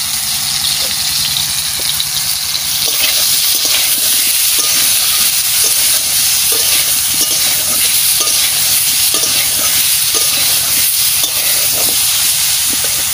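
Duck meat frying in a little oil at an outdoor family picnic, with a steady loud sizzle and hiss alongside regular stirring scrapes, close up and without talk.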